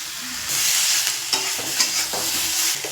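Onion, tomato, turmeric and chilli powder stirred and fried for a mrigal fish curry: a loud, close sizzle swells in after a quiet start, punctuated by a few scraping thuds of the spatula against the pan.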